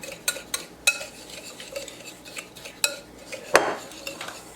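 Utensil stirring a brown sugar meat rub in a bowl until well combined, with scattered light scraping taps and clinks against the dish, close and fairly quiet, no voices.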